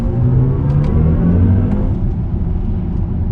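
A BMW iX M60 electric SUV accelerates with its synthetic drive sound, a loud, deep, swelling hum and rumble heard close from inside the car, rising smoothly without any engine roar.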